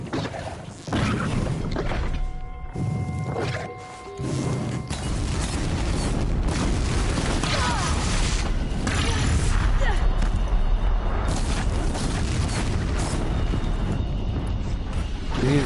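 Blaze canisters exploding on a machine in Horizon Zero Dawn, dense booming blasts and crashing impacts with mechanical clatter, loud and sustained after a brief quieter start, with a voice talking over parts of it.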